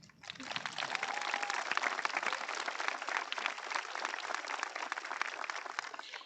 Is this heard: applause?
yes